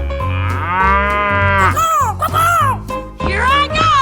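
A cartoonish cow moo from a 3D animal slide video game, a long loud bellowing call followed by several shorter rising moos, with game music underneath.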